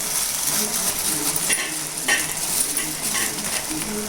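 Chili powder, coriander powder and masala are stirred into tomato rice in a sizzling pan, a constant frying hiss with a few scraping strokes of the spoon, close and loud, with no voice.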